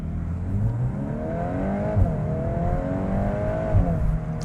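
A facelifted Volkswagen Golf R accelerating hard on an open road, engine tone climbing steadily through gears from inside the cabin, with a continuous loud drone and two brief shift dips.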